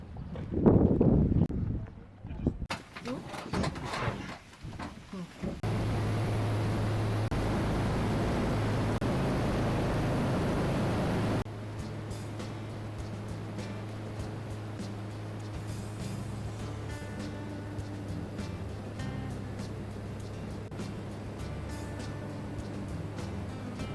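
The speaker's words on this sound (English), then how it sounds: "Oh, that's a sick plane." A float plane in remote Alaska drones steadily and fairly loud for several seconds, a sustained low hum that then eases to a quieter, continuing rumble, with wind noise and brief talk near the start.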